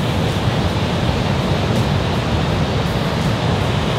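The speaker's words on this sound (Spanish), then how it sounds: "Qué pena, ¿no?, que está hoy todo el mar así, bravo." Rough sea surf pounds a black sand beach on Tenerife, a continuous loud roar of breaking waves with steady wind and no talking.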